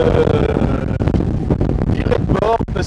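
Strong wind of about 17 to 18 knots buffets the microphone aboard a sailboat sailing close-hauled at sea off Île de Ré, a loud rough rush with someone speaking French over it.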